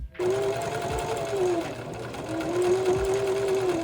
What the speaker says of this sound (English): what I'm gonna do next is I wanna sew the outside pocket